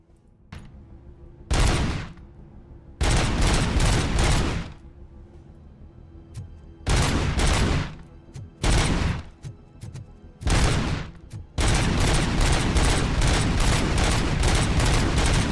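Beretta pistol fire in the video game RoboCop: Rogue City, rapid loud bursts of shots in several clustered volleys separated by short quiet gaps, ending in a long sustained barrage.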